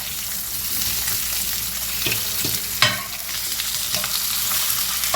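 Meat browning in a frying pan for a pizza soup gives a steady, loud close-up sizzle throughout, with a few sharper crackles and spatters along the way and no talking.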